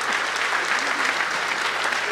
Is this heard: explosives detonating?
no